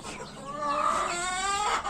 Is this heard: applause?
no